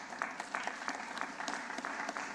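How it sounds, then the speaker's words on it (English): An audience at a public hearing applauds steadily for panelists, a moderate, even wash of clapping lasting throughout with no voices over it. "Give all of our panelists a big round of applause."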